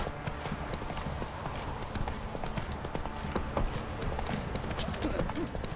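A horse gallops in The Witcher 3 video game, a steady rapid clip-clop of hooves under faint ambient sound, with a voice speaking over it.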